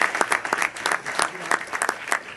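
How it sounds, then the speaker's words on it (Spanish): Audience applause for a panel at a media debate, a brisk spell of crowd clapping with distinct individual claps standing out, moderately loud and continuous, with faint voices mixed in. "por favor un fuerte aplauso a todos"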